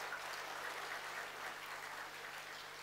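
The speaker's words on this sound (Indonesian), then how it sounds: "Tepuk tangan untuk kita semua." At a vocational health school graduation ceremony, the audience gives a faint, distant round of applause, a steady wash of clapping lasting a few seconds with no voices over it.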